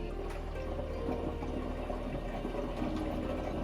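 A Japanese toilet bidet sprays a steady, continuous stream of water nearby, a broad hiss with a gurgling, pump-like undertone that holds level throughout with no talking.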